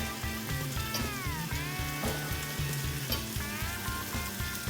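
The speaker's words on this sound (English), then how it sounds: "listen to it sizzle" Chicken sizzles loudly and steadily in a frying pan, a constant crackling hiss with rhythmic music playing underneath.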